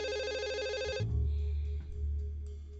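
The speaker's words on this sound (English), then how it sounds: "I should probably pick up that phone." Electronic telephone ringtone in a point-and-click adventure game at a paranormal investigator's office, a warbling trilled tone for about a second, then cut off as low rumbling game ambience takes over; no speech.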